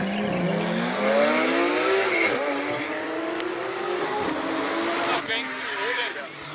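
A Porsche race car launches from the start line at the Cape Town hill climb, its engine revving hard and climbing through the gears with a brief tire squeal. A commentator talks over the loud, close run.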